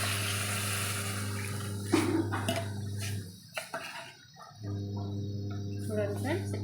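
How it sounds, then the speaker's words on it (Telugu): Coconut milk is poured into a cooking pot while making coconut milk rice, a short liquid pour with a few light clinks over a steady kitchen hum. "వీటిని ఒకసారి ఇందులో పోసుకోవాలి"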